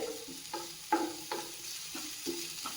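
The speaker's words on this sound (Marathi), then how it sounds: "ही सुद्धा कांद्यासोबत व्यवस्थित आपल्याला परतून घ्यायची आहे" Ginger garlic paste sautéing with onions in a pan, a soft sizzle with repeated scraping stirs at a steady pace, fairly quiet and close.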